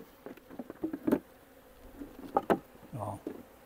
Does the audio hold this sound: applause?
no